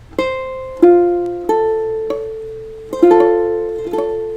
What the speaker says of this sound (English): it's often the string on the bottom that buzzes the most